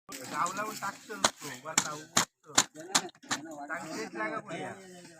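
Sharp firecracker bangs burst in an irregular string, about eight loud cracks, over several people talking and chattering during a Gavaldev festival celebration in the Konkan, Sindhudurg.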